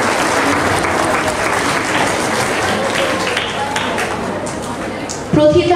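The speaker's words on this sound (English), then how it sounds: "Please give a big round of applause for our achievers." Big round of applause from the audience at a school prize-giving ceremony for winning students, steady and full with faint crowd murmur, ending as a voice begins speaking near the close.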